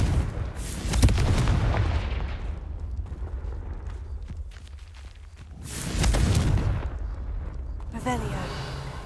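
Booming fire-spell blasts from a Confringo cast in Hogwarts Legacy, two loud rumbling bursts a few seconds apart with a low roar trailing between them, and a voice speaking at the end.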